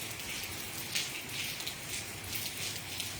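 Rain falls as a soft, even patter with faint scattered drops over a few seconds, with no voices.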